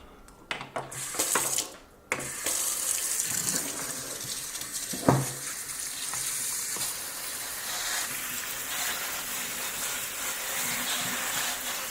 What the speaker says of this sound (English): we want to give these a good rinse